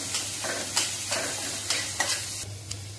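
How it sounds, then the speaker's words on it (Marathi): Onion sizzling and frying in a pan while a utensil stirs it in several short scraping bursts, close and fairly quiet, with a steady low hum underneath. "आता मम्माने कांदा टाकला, त्याला परत हलवून घेतलं"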